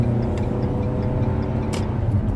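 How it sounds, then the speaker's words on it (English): A car accelerates along a road, its engine droning steadily and close, with continuous road and wind rumble and a brief hiss of passing traffic. "sorry, got to speed up there"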